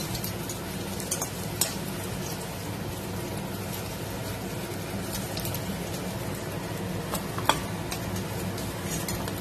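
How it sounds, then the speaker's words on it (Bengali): Brinjal pieces fry in hot oil with a steady, loud, even sizzle and crackle that keeps up throughout, with only a few sharper pops and no voices. "বেগুনগুলো দেখো লাল লাল করে ভাজা হয়ে গেছে"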